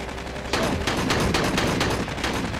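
Rapid machine gun fire in the Aliens: Colonial Marines video game, a loud sustained burst of repeated shots from about half a second onward, with no talk over it.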